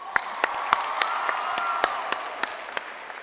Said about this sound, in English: give your parents a nice round of applause